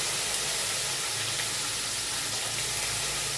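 Cauliflower florets and carrot pieces fry in hot oil with ghee and garam masala for party-style fried rice, giving a loud, steady, close sizzling hiss that holds evenly throughout without any talk.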